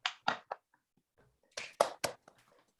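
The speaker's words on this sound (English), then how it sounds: "Let's give him a bigger round of applause for Joseph D." A small group at a Toastmasters club meeting claps in two short bursts of scattered handclaps, with a quiet gap between them.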